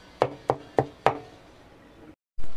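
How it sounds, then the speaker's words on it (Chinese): A cleaver chops a pork filling mixed with fatty pork for wontons on a wooden board, four sharp evenly spaced thwacks followed by a pause and then one more heavy hit, close and loud. "咁就輕輕就剁佢幾下啦"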